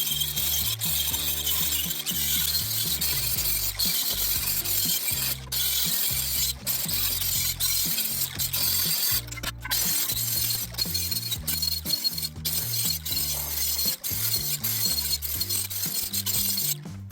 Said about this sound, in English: we're going to take this grinding wheel here, this knotted wire wheel on a grinder, and clean the rest of this rim up here